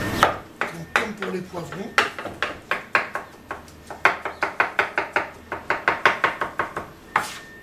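A knife finely chops vegetables for a Tunisian méchouia salad in quick, steady strokes on a board, producing a close, crisp run of rapid chops with a brief pause, while a voice speaks briefly.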